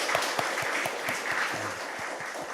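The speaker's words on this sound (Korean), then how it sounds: "박수 한번 치겠습니다." A standing church congregation at a worship service claps together, the applause moderately loud and even, with a few sharper individual claps and a brief low voice or tone near the middle.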